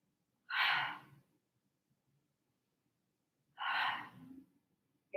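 Two forceful breaths, each a loud, breathy exhale and inhale, come about three seconds apart during an exercise routine, close and clear against near silence.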